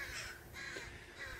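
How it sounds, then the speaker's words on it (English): Crows cawing near a country club in Rancho Mirage, several harsh caws in quick succession, faint but clear against outdoor background. "The crows are getting a little annoyed."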